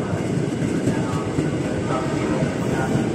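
A commuter train speeds through Manggarai station with a loud, continuous rumble and rolling rail noise, heard up close without pause.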